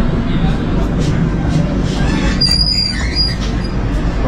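Steady low rumble inside a moving Pratap Express passenger train, with a brief high wheel squeal midway. The noise is loud and continuous throughout.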